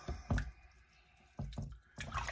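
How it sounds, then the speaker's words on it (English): Pig intestines (chitterlings) are rinsed by hand in water, giving soft splashes and sloshing bursts in three separate bouts with quiet pauses between, close and moderately loud. "So I'm just rinsing it around, seeing if I can find any other dirty places."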